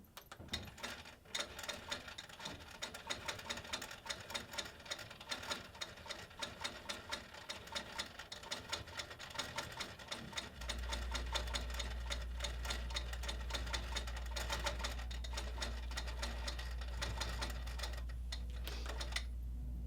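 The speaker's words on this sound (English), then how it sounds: "So we'll do a little bit of a stitch in the ditch here." A sewing machine stitches in the ditch along a quilt, running as a steady, fast mechanical chatter for the whole stretch, with a low motor hum growing louder partway through.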